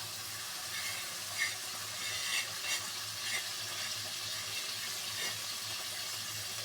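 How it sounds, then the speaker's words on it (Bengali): Fish pieces dropped one by one into fried spice paste in a pan, with a steady, broad sizzle throughout and a few soft splashy bursts as each piece lands. No one talks. "এখন আমি মাছগুলোকে এখানে একে একে দিয়ে দিচ্ছি"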